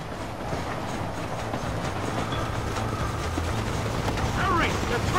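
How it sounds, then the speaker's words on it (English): A steam train running in the video game Red Dead Redemption, a steady rumbling roll with faint rhythmic clatter, heard under voices and game background sound. "¡Hurry! ¡The train is getting away!"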